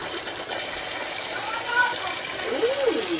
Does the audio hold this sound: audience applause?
no